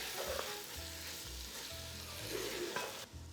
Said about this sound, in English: So now we're gonna add our soffritto that we chopped up earlier. We'll just stir that in with our pancetta.